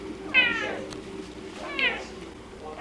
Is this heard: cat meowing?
yes